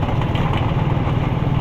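A Kawasaki Barako motorcycle engine running steadily nearby, a loud low rumbling idle with even pulsing and no voices, after carburetor tinkering with a repair kit.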